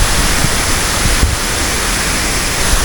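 Waterfall at Clarenda's Farm in San Jorge, Samar, a dense, steady rushing roar of falling water, loud and close, with no voices over it.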